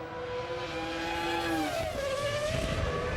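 Formula 1 cars race at the 2000 French Grand Prix, a loud, high engine whine sliding down in pitch as a car passes, running continuously over the full stretch.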